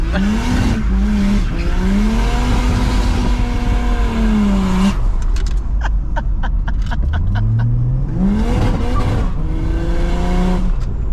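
Nissan R31 Skyline wagon engine revving hard and bouncing off the limiter, loud and close, with a rapid stuttering burst mid-clip before climbing again.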